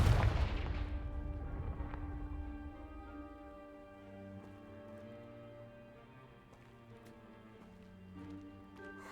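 A Confringo fire spell blast in the video game Hogwarts Legacy hits with a loud, booming burst at the start, then dies away under sustained orchestral music.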